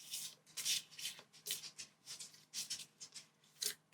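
Faction cards for the Andromeda's Edge board game shuffled by hand, giving soft riffling and flicking bursts repeated in an irregular rhythm, close and fairly quiet.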